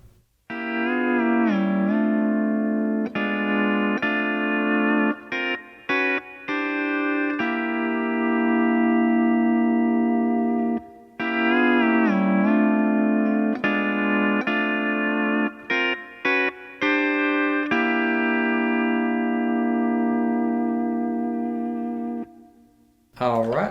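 A pedal steel guitar plays the first phrase of a song, with sustained, gliding chords of four notes, swelling and bending in long phrases broken by brief pauses, heard alone and close.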